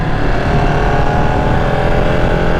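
A Ducati Panigale 959 superbike engine gives a loud, steady roar up close, a continuous high-revving drone without pauses.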